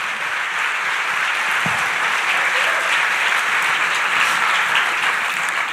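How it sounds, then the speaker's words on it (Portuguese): A church congregation breaks into sustained applause during a sermon, a thick wash of clapping from many hands that holds steady and loud throughout, with hardly any voices breaking through. "Dá uma salva de palmas para Jesus."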